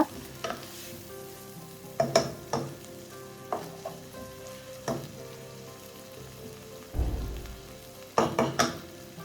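Red cow peas thoran being mixed in a pan, a spatula scraping and knocking in irregular bursts over a faint sizzle, with a heavier thud toward the end.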